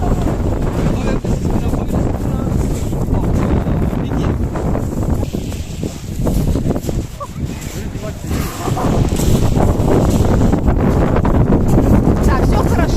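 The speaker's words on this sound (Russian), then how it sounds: "Ветер очень сильный." Very strong wind blows by the sea in Antalya, roaring and buffeting the microphone continuously and loudly for the whole stretch, easing briefly midway before gusting hard again.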